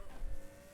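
A car in a racing video game slides into a drift, a brief burst of engine roar with a tire-squeal tone that swells and then holds, lasting under a second at moderate loudness.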